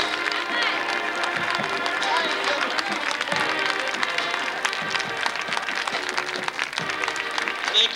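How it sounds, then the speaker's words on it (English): Applause from an audience at a university event honoring a long-serving faculty member, steady broadband clapping filling the full stretch at moderate loudness with crowd noise mixed in. "That's worth a round of applause."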